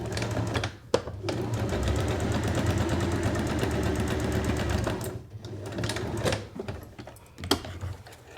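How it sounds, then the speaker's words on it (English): An electric sewing machine stitches across the corners of a fabric petal drawstring bag, its rapid mechanical whir running in long bursts broken by short pauses, close and steady. "you're sewing across the corners, each of the 4 corners of the square."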